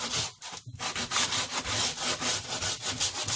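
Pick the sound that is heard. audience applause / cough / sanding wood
sanding wood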